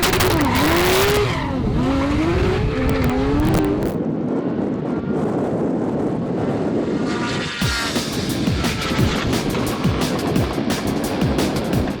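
Nissan GT-R cars with manual gearboxes roar down a drag strip at a 2018 GT-R Challenge: high revving engines climb through gear shifts, then a loud, close pass with roaring exhaust and crowd-like background noise.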